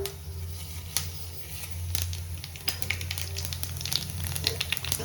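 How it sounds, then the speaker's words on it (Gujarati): Cumin seeds sizzling and crackling in hot oil in a kadai in a home kitchen, a steady close frying hiss with scattered sharp pops throughout. "તેલ આવી ગયું છે, જીરું એડ કરી દઈશું 1 ચમચી."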